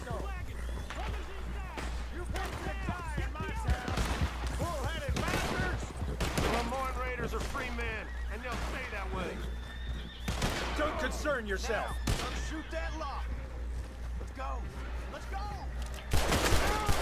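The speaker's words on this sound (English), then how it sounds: "I heard gunshots." Rapid bursts of gunfire in Red Dead Redemption 2 crackle repeatedly beneath steady talking and background music, growing louder near the end.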